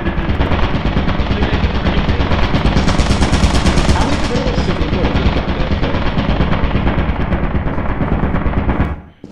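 Sustained rapid machine gun fire in the horror co-op game Lethal Company, dense and loud throughout, fading out abruptly at the very end with no clear talk over it.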